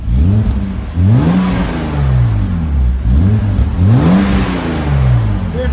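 A stock 1995 BMW M3 with the 3.0L inline-six and its resonator still fitted revs repeatedly through its exhaust, three loud rising and falling blips close by, with no talking.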